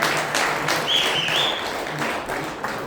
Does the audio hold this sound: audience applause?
yes